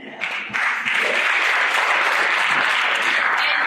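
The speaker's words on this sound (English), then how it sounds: "round of applause for Izzy for Ollie for being our April annou" An audience at a school announcements show bursts into applause, a dense, sustained wash of clapping that swells quickly and holds loud and steady to the end.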